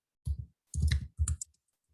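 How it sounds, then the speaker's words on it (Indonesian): Keys clatter on a computer keyboard as a keyword is typed, three short close bursts of clicking separated by brief pauses, no voices. "Lalu kita ketikkan keyword sistem informasi."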